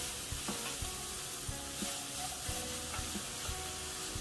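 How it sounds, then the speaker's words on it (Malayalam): Rava upma mixture with carrot being stirred in a sizzling pan, a steady frying hiss with soft repeated scraping strokes of the spoon, close and continuous with no talk. "ഇനി എല്ലാം കൂടെ ഒന്ന് ഇളക്കി യോജിപ്പിച്ച് കൊടുക്കണം."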